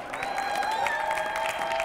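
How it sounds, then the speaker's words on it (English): Brief scattered applause from a small group at a breast cancer awareness press conference in Southfield, even clapping lasting a couple of seconds. "Give Kelly Payton a round of applause."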